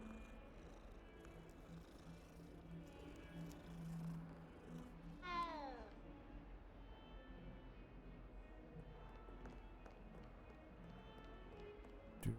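A cat meowing in the video game Hogwarts Legacy, one clear rising meow near the middle of the clip over a low game soundscape.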